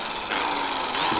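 A Dongcheng DZJ02-13 concrete hammer drill runs freely for an RPM test, its motor whining steadily and close, rising slightly in speed after a short start.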